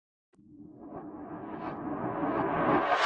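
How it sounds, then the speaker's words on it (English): A dark, ominous horror-style riser effect in a rap beat swells from silence, building steadily in loudness and brightness with a rumbling, echoing texture. "Here I've added this horror style riser."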